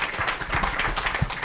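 An audience at a democracy forum claps together in soft, dense, continuous applause.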